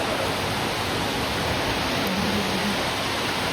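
Torrential rain hammers down in dark, night-like conditions over a waterlogged neighborhood, a continuous loud hiss with a brief low hum partway through.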